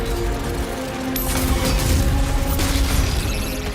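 Gunfire in the video game DOOM: The Dark Ages, a dense continuous roar of rapid shots and mechanical clatter, loud and close, with no talking.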